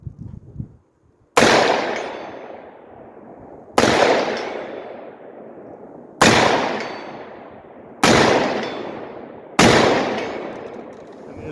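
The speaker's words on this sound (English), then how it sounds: "let's try to get into a groove, shooting at 150 yards" Five loud .223 rifle shots fired through a muzzle brake at a 150-yard target, each a sharp close crack with a long decaying tail, spaced about two seconds apart.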